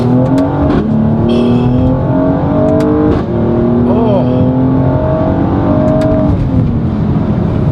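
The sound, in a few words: Mercedes-AMG GLC 43 exhaust crackling on downshift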